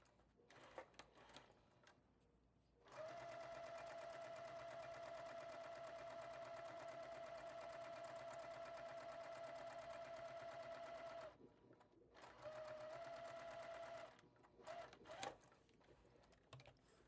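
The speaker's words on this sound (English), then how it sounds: "So I'm gonna take an A and a B and sew that together." Quilt pieces are joined on a sewing machine: a long steady run of close, even stitching hum with a faint whine, then a pause and a shorter second burst, with scattered handling noises before and after.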